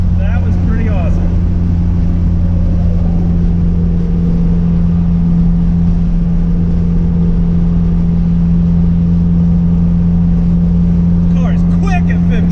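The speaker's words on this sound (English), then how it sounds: "The car is quick at 15 pounds, boy." A turbocharged car running 15 pounds of boost pulls hard, with a loud steady engine drone and hum heard from inside throughout.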